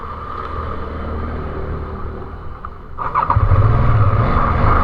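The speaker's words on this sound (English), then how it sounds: "Now it's time to ride it properly. The BMW Motor Ride." A BMW F 450 GS motorcycle engine hums steadily while riding, then swells into a louder, deeper rumble as the rider opens the throttle, recorded close with wind noise.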